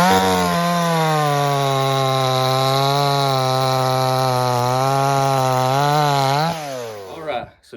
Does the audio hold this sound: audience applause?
no